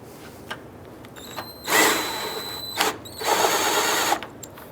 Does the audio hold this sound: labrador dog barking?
no